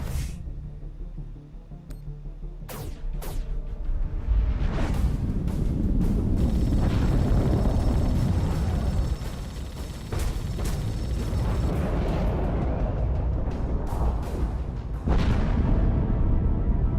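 Torpedoes whooshing in and exploding during a space battle in The Expanse: A Telltale Series video game: a few sharp hits early, then sustained loud roaring blasts and rumble with further impacts throughout.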